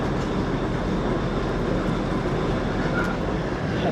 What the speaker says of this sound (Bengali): আমাদের ডিজেল লোকো দেখো টয় ট্রেনের স্পিড দেখো